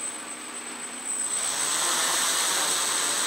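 Motors and propellers of a DIY mini quadcopter spin up after arming, a high whining hiss with a steady tone that swells louder after the first second and holds.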